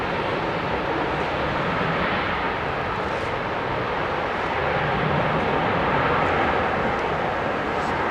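Polish airline jet at London Heathrow Airport, a steady broadband roar of engines heard at moderate distance, constant and unbroken throughout.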